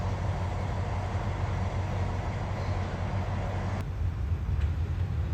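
A steady low rumble and hum of a train rolling slowly into platform 5 of Bangkok's Hua Lamphong station, constant and fairly loud, with a broadband roar that drops slightly near the end.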